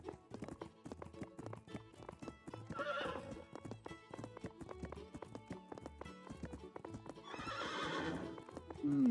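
Horse hooves clip-clop at a steady trotting rhythm while riding in the video game Animal Doctor, close and even, with two breathy neighs and whinnies rising over them.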